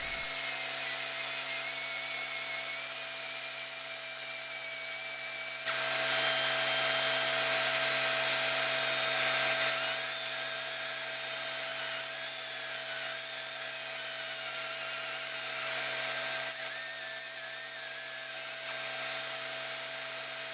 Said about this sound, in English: Now that I've gotten most of the first stage of fiberglass repair and sanding done on the blue fender